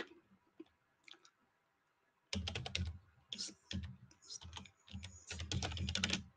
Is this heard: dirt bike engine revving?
no